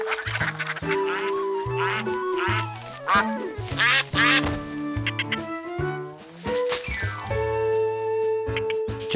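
Cartoon ducks quack busily at a duck pen during feeding time, a rapid overlapping chorus of loud, close, honking quacks that continues almost without pause.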